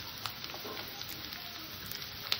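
Carrots and other vegetables sizzle in a hot pan as they are stirred, a soft, steady frying crackle with small scattered pops and scraping throughout.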